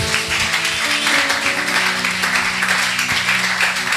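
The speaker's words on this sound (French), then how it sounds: "Nos acclamations." Church congregation applauding together after a prayer, a steady wash of clapping that fills the whole stretch with no pauses.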